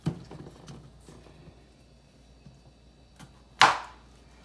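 A knife chops through corned beef and cabbage on a cutting board in a home kitchen: a few soft taps at first, then quiet, then a sharp louder chop and a final clack.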